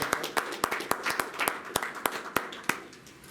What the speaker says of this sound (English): we'll just have one more round of applause for